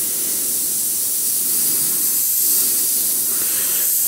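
Aerosol can spraying metallic paint onto a spoon in thin coats, a steady close hiss with broad airy noise that holds evenly throughout, no voices.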